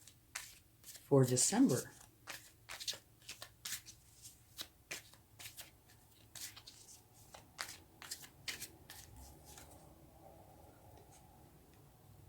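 Tarot cards being shuffled by hand, a loud riffling burst followed by a long run of lighter irregular slaps and flicks that thin out toward the end, with a brief spoken voice over the cards.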